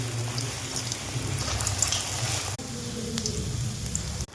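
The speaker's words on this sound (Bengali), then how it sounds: "এবারে গরম গরম তেলে আমি ভালো করে ভেজে নেব" Coated vegetable chops sizzle in hot oil with a steady, close crackle and spatter. The frying breaks off sharply for a moment near the end, then resumes.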